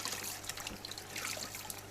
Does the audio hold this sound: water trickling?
yes